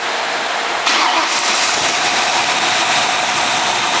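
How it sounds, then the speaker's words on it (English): A Ford 302 V8 car engine cranks and catches, then settles into a loud, steady rumbling idle that continues close by. "And we start the engine up."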